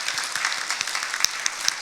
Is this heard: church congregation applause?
yes